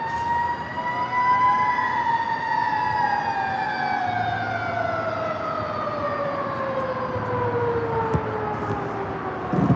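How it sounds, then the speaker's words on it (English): Emergency vehicle sirens wail continuously in San Diego, their falling tones sliding across each other at a moderate distance over a steady background hum, with no talk. "I'm hearing sirens."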